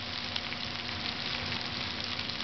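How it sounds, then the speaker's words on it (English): Onions with crushed garlic and ginger sauté in a pot, giving an even, steady sizzle and hiss, close up and moderately quiet, with no voices over it. "I'm going to add my crushed garlic"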